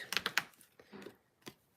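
Scissors snip through birthday card stock in a quick run of sharp, close clicks, followed by a couple of softer cuts and one more snip.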